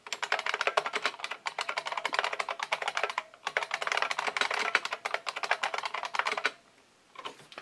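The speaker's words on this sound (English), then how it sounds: "And I can just go ahead and start typing here." Someone types on a DEC VT510 terminal keyboard in rapid bursts of close, crisp key clicks, pausing briefly between runs, with a short stop near the end before a few more keystrokes.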